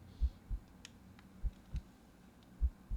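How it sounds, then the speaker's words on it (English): Heartbeat sound effect in an audio horror story: low, soft double thumps repeating in a steady lub-dub rhythm, four beats over three seconds, alone with no talk. "You feel like you can hear your heartbeat."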